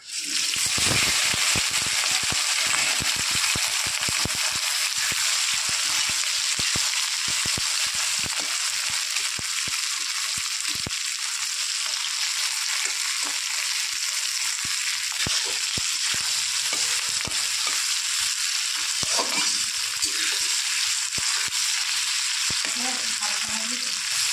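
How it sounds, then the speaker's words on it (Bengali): Onion, garlic, tomato, green chili and whole coriander hitting hot oil in a pan, a loud, dense, continuous close-up sizzle that bursts in at the start and crackles steadily throughout, with no one speaking. "তেল গরম হয়ে গেছে, আমি মশলাগুলো দিয়ে দেবো।"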